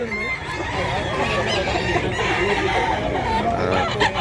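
A rooster, a young stag being offered for sale, crows and clucks close by amid continuous cackling from fowl, with a voice faintly underneath.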